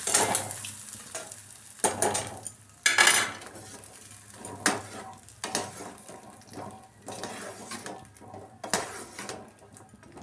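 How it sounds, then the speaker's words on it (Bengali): Lentil fritters (boras) fry in a pan, with intermittent bursts of sizzling and stirring plus clinks of utensils against the cookware, close and moderately loud, with no talking. "এবার গরম রসের ভেতরে বড়াগুলো ভেজে ভেজে দেবো"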